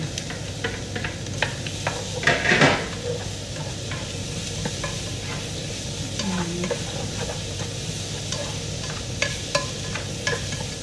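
Garlic sizzling with sautéing onions in a pan, a steady close frying hiss broken by stirring scrapes and a brief louder burst early on, with no voices.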